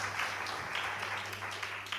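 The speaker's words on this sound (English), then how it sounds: "let's everyone. applaud to the Baltic Car Equipment Company" Applause from an audience at a live equipment training event for the Baltic Car Equipment Company, a steady wash of many hands clapping, moderately quiet and continuous throughout with no voices standing out.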